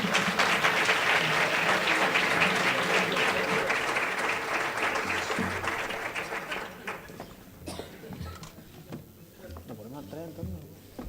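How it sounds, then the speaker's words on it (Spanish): Audience applause at a Spanish book presentation, a broad steady wash of clapping that fades gradually over about eleven seconds, with scattered voices surfacing as it dies away. "Un fuerte aplauso."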